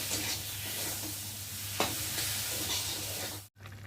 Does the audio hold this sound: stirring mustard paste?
yes